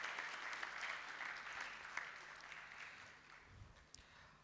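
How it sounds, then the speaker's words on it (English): A round of applause at the close of a valedictory session, quiet and distant clapping from an audience that holds steady and then thins out. "give a round of applause to them"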